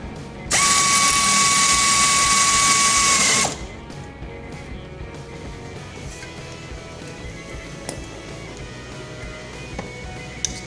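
A power tool tightens a mounting bolt during an SRS fault repair on a Honda Civic sedan. It gives a loud, steady mechanical whir lasting about three seconds, followed by quiet background with faint clicks.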